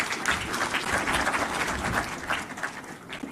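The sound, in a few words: audience applause at stock exchange ceremony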